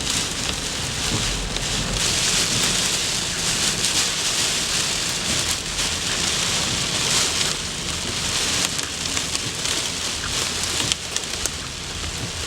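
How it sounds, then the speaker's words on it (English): Heavy rain and hail at the edge of a storm core in Appin in April, a dense, steady hiss of drops pounding surfaces, loud and continuous with no clear thunder. "we're on the edge of the hail here"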